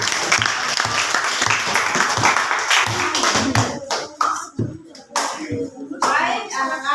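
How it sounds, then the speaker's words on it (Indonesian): Children clap their hands together in a classroom, a lively burst of applause with teacher and kids talking over and after it. "Kita tepuk tangan."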